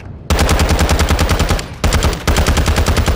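Hemlok rifle in a video game firing rapid bursts of loud, punchy automatic shots in a steady rhythm, with two short breaks between bursts.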